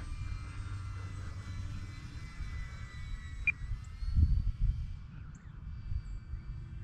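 E-Flite Air Tractor 1.5 RC model airplane flying on its maiden flight, a faint steady motor whine carried over low outdoor wind rumble, swelling briefly in the middle and then holding at a distance.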